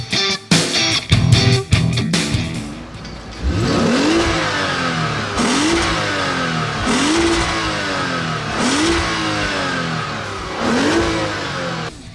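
A 2015 Lexus RC 350 F Sport engine revs loudly after a rough start, then climbs through repeated rising accelerations with gear changes, close and strong.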